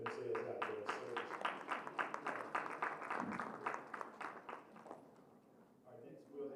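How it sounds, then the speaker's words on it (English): A modest round of applause at a ward town hall meeting in a Methodist church, with scattered individual claps rising and fading over several seconds, fairly quiet, and a voice at the very end. "let's give them a round of applause because they are putting themselves out there in service"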